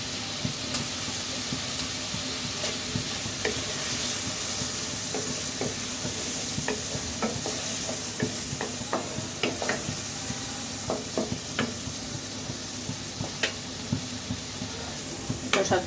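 Chopped tomato hitting hot oil in a frying pan, a steady loud sizzle with a spatula scraping and stirring in quick, irregular clicks that grow busier toward the end.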